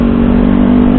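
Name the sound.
Kawasaki Ninja 250 motorcycle engine running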